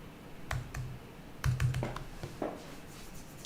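Someone types on a computer keyboard in scattered bursts of close, crisp key taps with short pauses between them, no talking.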